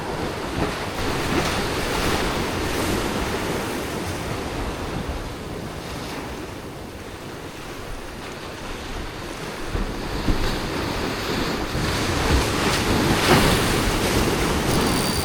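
Ocean waves crash and wash on a winter shore during rockfish fishing, a steady loud roar of surf with strong wind buffeting the microphone for the whole stretch and no voices.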